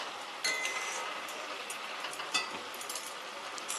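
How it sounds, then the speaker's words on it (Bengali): Potatoes, banana flower and spices are stirred in a pan, giving soft scraping and clinking of a spoon against metal, with a few sharper clinks over a quiet, steady background. "সবকিছু মশলার সাথে আলু, মোচা, মশলা খুব ভালো করে মিশিয়ে নিচ্ছি"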